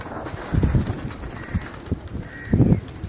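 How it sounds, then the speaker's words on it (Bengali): A large flock of more than five hundred pigeons lifts off into an overcast sky, with two heavy bursts of fluttering wingbeats over a soft background of scattered coos. "আনুমানিক প্রায় উপরে পাঁচশো প্লাস কবুতর উঠতেছে"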